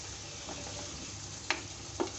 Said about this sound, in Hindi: इसे लो फ्लेम पे ही फ्राई करना है, तेज़ फ्लेम पे फ्राई नहीं करना है।